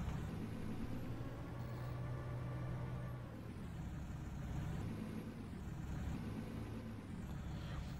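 A tractor engine in a farming video game runs at a steady, moderately quiet mid-pitched idle, a continuous drone with slight rises and dips and no voices.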